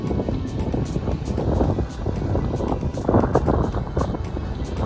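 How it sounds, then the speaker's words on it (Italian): Wind blowing hard along a stormy Sardinian coast near Piscinas, a steady loud rush with gusts and buffeting on the microphone throughout, joined by the low rumble of waves. "Come al solito il vento ci accompagna ormai in questi giorni"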